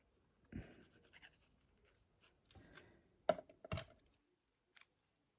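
Scissors cut a small paper Halloween word: a few short, close snips and papery rustles in separate bursts, quiet, with silence between.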